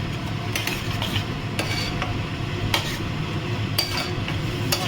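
Pointed gourd stirred and fried with spices in hot oil, a steady sizzle throughout with a sharp scrape of the spoon against the pan about once a second, close and alone.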